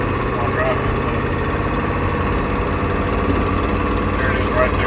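A 7.3 diesel engine idles with a steady low rumble and a faint ticking puff from an exhaust leak at the up pipes, recorded close with brief speech mixed in.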